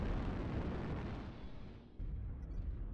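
Artillery or air strike explosions in a video game, a continuous loud broadband rumble that dips briefly, then returns with a fresh burst.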